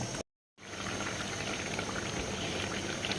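Qorma curry with tomato and onion simmering in a pot makes a steady bubbling hiss after a brief break at the start, continuous and close, with no talking.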